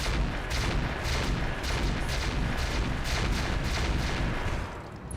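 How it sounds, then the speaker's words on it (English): Clan mortars fire in a RogueTech mech battle, a steady barrage of repeated booming thumps at an even rhythm, loud and continuous across the whole stretch with no talking. "24 clan mortars."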